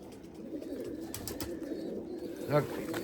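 Erzurum white breeding pigeons coo softly inside a coop, low murmuring calls repeating close by with a short louder burst near the end.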